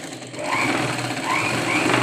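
Sewing machine running steadily while stitching the straps of a simple blouse, a continuous close whirring hum with faint rhythmic needle chatter throughout.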